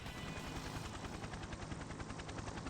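A helicopter in the fighting game Persona 4 Arena Ultimax, heard as a quiet, steady, rapid rotor chop with a low rumbling drone that runs throughout.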